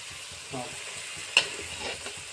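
Tamarind goes into bisi bele bath sizzling in a pan, with a steady close fry hiss, soft stirring scrapes and a brief splash as it lands.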